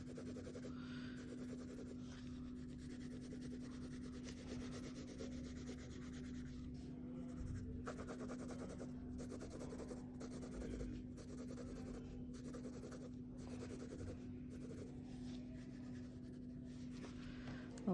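A pencil shading between the teeth of a skull drawing on paper, producing soft, repeated rubbing strokes in a quiet, close, continuous scratching rhythm with brief pauses.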